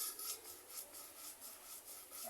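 Sandpaper rubs steadily across the side panel of a Sym Radar 125 scooter, a close, continuous raspy scraping that swells and eases in repeated strokes, with no voices.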